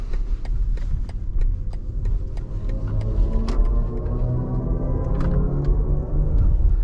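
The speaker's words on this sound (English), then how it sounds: "You can hear the iconic sounds that's built by Hans Zimmerman for the BMW." A 2024 BMW iX electric car accelerating, its Hans Zimmer–designed synthetic drive tone swelling in layered rising pitches over road rumble, with faint ticking clicks throughout.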